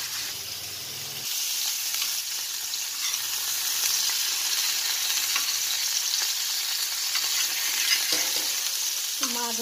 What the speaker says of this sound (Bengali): দিচ্ছি সাদা তেল, তারপরে মাছগুলো আমি ভেজে নিই। পুরো মাছটা দিয়ে দিয়েছি।